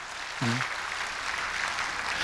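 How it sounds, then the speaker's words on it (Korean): A church congregation applauds during a sermon, giving a steady, moderately faint wash of clapping that carries on to the end, with a brief voice near the start. "제가 박수 한번 쳐드릴게요"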